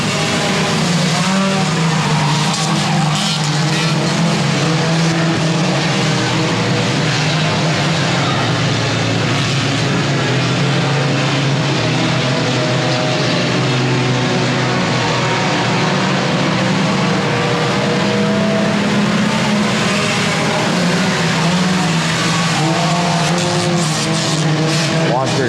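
Race cars roaring three wide around Lonestar Speedway during a heat race, a loud, continuous engine drone with tire squeal, steady and close throughout, while an announcer calls the action over it.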